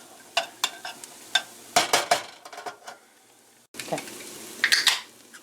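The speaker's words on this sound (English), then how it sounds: "Now we're going to put the garlics in there. We'll probably give it about 2 minutes." Onions and garlic frying in a skillet, with intermittent sharp clinks and scrapes of a utensil against the pan over a faint sizzle, ending in a brief busier burst of stirring.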